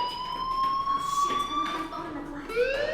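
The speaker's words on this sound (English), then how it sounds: "Hey, do you hear that fire alarm?" Fire alarm ringing inside the Life is Strange video game, a steady, piercing electronic tone holding on throughout, with voices and other game sounds underneath and a rising siren-like sweep near the end.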